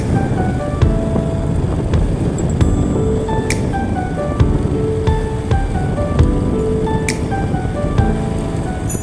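Steady light rain patter at night with a soft broadband hiss, mixed with scattered tonal squeaks and clicks, no talking.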